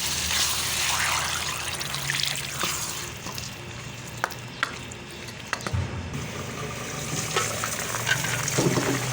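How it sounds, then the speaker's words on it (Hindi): Water poured into a cooking pot of potatoes being made into a potato and egg curry, a steady wash of trickling, sizzling liquid with faint stirring clinks, close and alone. "अब डालते हैं हम पानी।"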